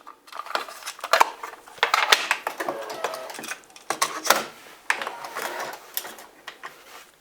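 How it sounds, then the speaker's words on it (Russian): A 1986 Goldstar CRX Type II cassette is loaded into a Sony TC-K222ESA tape deck, giving a run of close plastic clicks, clacks and mechanical rattles with a few short pauses and no talking. "Устанавливаю эту кассету в деку."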